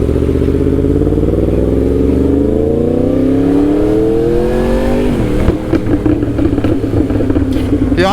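Mercedes car engine revving loudly and climbing steadily in pitch, then dropping off with rattling clatter, heard from close by under steady road noise.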